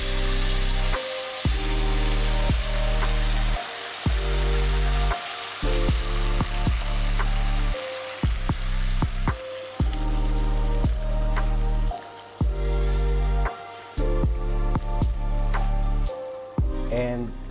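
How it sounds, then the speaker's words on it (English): Bicol express stew bubbling and sizzling in a pan after coconut milk goes in, a loud continuous crackle broken by short pauses and occasional stirring. "Then let's add our coconut milk."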